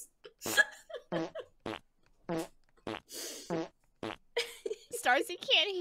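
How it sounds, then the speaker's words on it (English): Fart sound effects triggered by viewers during a livestream, short burps of noise popping up in quick succession among voices, some punchy bursts and a higher, squeaky tail toward the end, with talk woven between them. "I'm really concerned how many people are obsessed with the fart noises."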